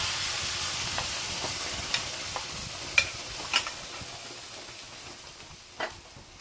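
Lentils and chillies fry in a pan for cucumber chutney (dosakaya pachadi), giving a steady soft sizzle with a few sharp clinks of a stirring spoon against the pan.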